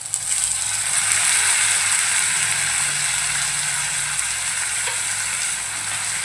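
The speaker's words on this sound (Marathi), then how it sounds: "आता आपण बारीक चिरून घेतलेले कच्चे टोमॅटो घालून घेऊया।" Finely chopped green tomatoes hitting a pan of softened, lightly browned onion for a chutney, giving a loud, steady broadband sizzle close by with faint stirring scrapes and no talk.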